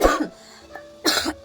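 A woman suffering a severe cough during illness coughs twice: a harsh burst at the start and a second hacking fit a second later, close and loud with a quiet pause between.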